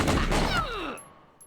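Enemy gunfire in the third-person shooter Winback cracks in a brief, close burst of rapid shots, then trails into a fading, falling ring.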